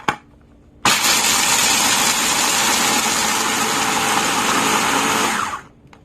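Food processor pulsing hazelnuts for homemade Nutella: a sharp click, then a loud, steady motor whir with the nuts churning inside, running about five seconds before stopping abruptly.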